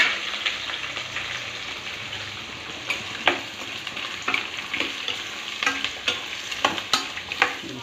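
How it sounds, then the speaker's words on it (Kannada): Onions with green chillies and curry leaves fry in hot oil, a soft continuous sizzle punctuated by frequent sharp scrapes and knocks of a spoon stirring the pan, heard up close without talk. "ಚಲೋ ನಂಗೆ ಎಣ್ಣೆ ಒಳಗೆ ಫ್ರೈ ಆಗಬೇಕು ಇವು"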